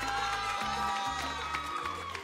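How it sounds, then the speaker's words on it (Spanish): A television studio audience on a celebrity cooking competition claps and cheers in a steady wash of applause with scattered whoops, while a host's voice carries over the noise. "Fuerte aplauso para Lita Peso,"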